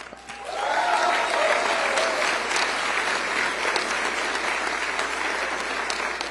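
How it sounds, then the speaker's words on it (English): Loud, sustained applause from a large crowd at a Department of Justice reception in Miami, steady clapping filling the whole stretch. "You're gonna get to clap."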